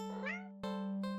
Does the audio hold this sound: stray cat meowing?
yes